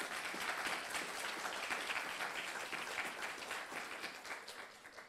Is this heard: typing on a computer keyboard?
no